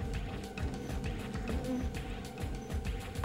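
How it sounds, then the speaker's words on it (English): A large mass of bees swarms closely around a person's head and body at a stunt challenge, giving a steady, dense buzzing drone with irregular thumps and rustles throughout. "There's a lot of bees here."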